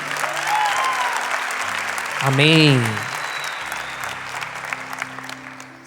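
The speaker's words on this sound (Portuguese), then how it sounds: "Vamos aplaudir Santa Teresinha." A church congregation applauds steadily throughout, a broad wash of clapping with a single voice speaking and a brief sung or chanted phrase rising over it midway.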